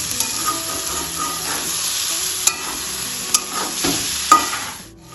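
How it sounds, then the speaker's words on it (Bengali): Egg and brinjal fry in a pan while being stirred: a constant close sizzle runs under sharp scraping and knocking strokes of the spoon, with the sound fading out at the end. "এই ডিমটুকু ভালোভাবে ভাজা ভাজা করে নেব।"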